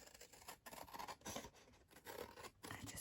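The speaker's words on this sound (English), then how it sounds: "I just find it easier just to get the bigger scissors and just chop it." Large scissors chop through a sheet along a scored line, giving quiet, close scratchy snips and rasping cuts spread over a few seconds.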